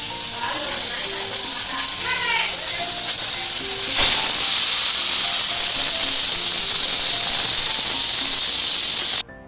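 A pressure cooker cooking vegetables for pav bhaji hisses loudly and continuously with a high steam whistle for about nine seconds, close and steady, then cuts off abruptly.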